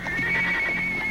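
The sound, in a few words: horse whinnying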